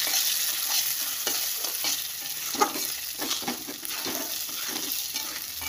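Rice grains fry with salt in a pan for fish-head muri ghonto, producing a continuous close sizzle broken by regular stirring scrapes and one louder clack, with no voices.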